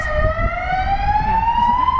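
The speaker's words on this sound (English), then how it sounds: "there's that loud siren" Loud Belgian police siren wailing continuously and close by, its tone rising steadily over a steady background rumble with no talk.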